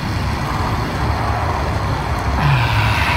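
Tesla Model X accelerating while towing a MasterCraft X15 boat: steady, loud road and drive noise that holds level throughout and builds slightly near the end, with no talk.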